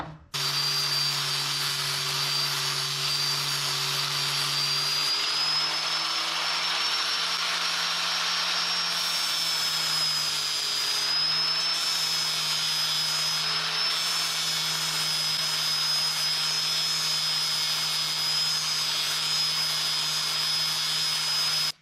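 A power tool cuts the end off a steel 1/2-inch socket extension, giving a loud, steady high whine over a low hum that runs unbroken for about twenty seconds with no voices.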